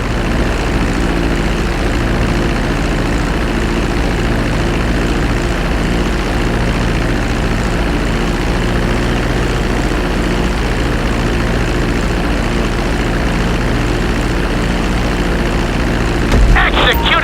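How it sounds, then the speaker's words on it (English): A propeller airplane in GTA 5 drones steadily while decelerating on a landing approach, a loud continuous low engine hum that holds level throughout, with a brief knock near the end. "Start to decelerate while you're still in the air, but be careful not to stall the engines."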